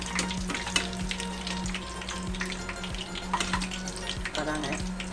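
Two chillies sizzle and crackle in hot oil in a pan. The frying is steady and close, with sharp spatter pops and some faint kitchen sounds alongside.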